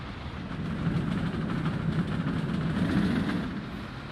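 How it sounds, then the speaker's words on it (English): A cheap diesel locomotive train in the Soviet-era city-building game Workers & Resources: Soviet Republic rumbles steadily, a continuous low-heavy rolling drone that holds a fairly even loudness throughout. "it's the cheapest diesel locomotive there is"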